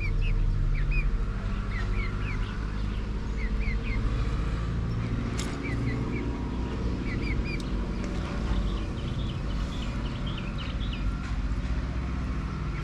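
A black hen crows with a rooster-like call among scattered bird chirps and clucks in a Turkish village, over a steady low rumble of background noise.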